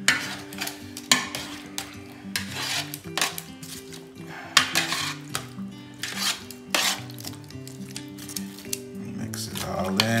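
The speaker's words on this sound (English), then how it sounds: "let me kind of stir and mix all this stuff up together" Onions being stirred and mixed in a cooking pot, with repeated scraping and clinking strokes of a utensil against the pot in an uneven rhythm, fairly close, with some broken musical or humming tones in the background.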